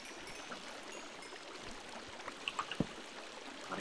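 Flowing water in the Minecraft video game runs in a soft, continuous trickling wash, faint and steady, with a few small splashy ticks toward the end.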